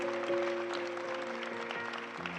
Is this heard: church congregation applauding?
yes